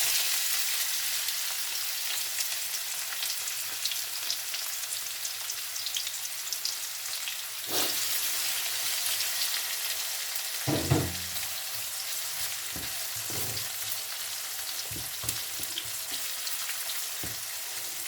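Onions drop into hot oil in a pan and sizzle steadily, a broad hiss that flares as they go in, followed by a few soft stirring knocks.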